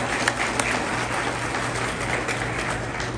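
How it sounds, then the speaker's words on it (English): A steady round of applause from an audience at an immigration awareness day event in a hall, moderately loud and continuous, with a low hum underneath. "Please appreciate him with a big round of applause."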